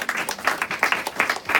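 Brief applause from an audience at a clean air lobby day gathering, a short burst of quick irregular claps, fairly light and close.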